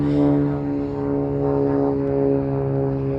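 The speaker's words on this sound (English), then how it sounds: "Sorry for the plane." A propeller airplane passes overhead, a steady droning engine with strong low harmonic tones that stays loud and even throughout, with no talk over it.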